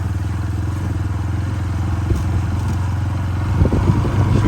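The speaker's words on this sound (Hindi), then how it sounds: "रास्ते बहुत ज़्यादा तंग हैं और मैं बाइक चला रहा हूँ आज बन्नों पर और पगडंडियों पर" A motorbike ridden along narrow village footpaths and field embankments, its engine droning steadily and loud up close, with clattering bumps and a slight rise in revving toward the end.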